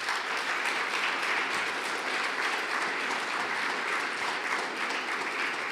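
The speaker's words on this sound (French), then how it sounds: "je pense que nous allons applaudir L'Éclat de Verre" Sustained applause fills a hall at an awards debate, honoring the framing company L'Éclat de Verre; dense steady clapping from a large audience runs evenly throughout with no voices on top.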